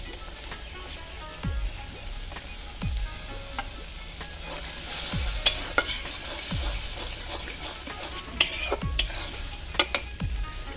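Chopped taro being stirred into a pangas fish curry in a pan, with soft repeated scrapes and clinks of the spoon over a quiet simmering sizzle and a few sharper knocks of metal on the pan.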